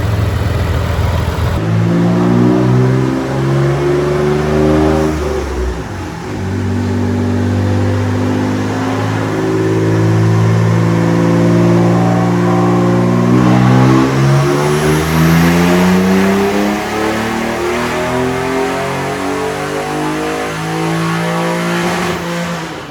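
A Mitsubishi 3000GT drift car engine on a dyno revs loud and close, climbing through long sustained pulls with rising pitch, briefly dropping off before building again.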